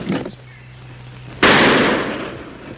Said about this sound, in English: Where shots come from?